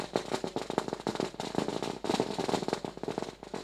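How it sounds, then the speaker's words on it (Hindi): Firecrackers and fireworks burst in rapid, irregular bursts of sharp cracks at a village cricket tournament event, loud and dense with no voices heard. "और पटाखों के देखिए आतिशबाजी हो रही है यहाँ पर।"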